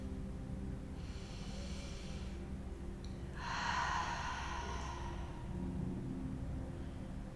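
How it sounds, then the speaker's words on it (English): A slow deep inhale drawn in through the nose, then a long airy exhale out through the mouth, soft and close during a prenatal yoga session, with a quiet low hum underneath. "taking a few deep breaths here, in through the nose and out through the mouth"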